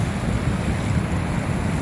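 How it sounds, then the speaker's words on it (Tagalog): Continuous surf at Bagasbas Beach in Daet, Camarines Norte, a broad steady roar of waves with wind buffeting the microphone and no break in the wash. "Kahit na walang bagyo, ganito talaga siya. Tuloy-tuloy yung alon."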